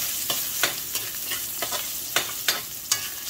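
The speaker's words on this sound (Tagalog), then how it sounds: "Gisa-gisa. Ilagay si luya." Ginger sautés in a hot pan, a soft background sizzle broken by a series of sharp scraping strokes from a spatula at irregular intervals, close and moderately quiet.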